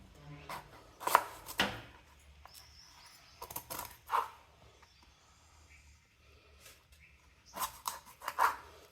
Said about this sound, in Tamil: நம்ம அதே மாதிரி எல்லா மாங்காவும் கட் பண்ணி வச்சுக்கணும்